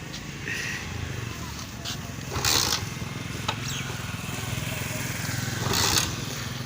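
A motorcycle with water in its spark plug is kick-started again and again without catching, giving two louder surges over a steady low mechanical rumble outdoors, with faint voices nearby.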